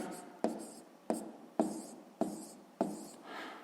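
Pen or pencil writing numbers by hand during a sixth-grade math exercise, five quick scratchy strokes spaced about half a second apart, close and clear, with no talking.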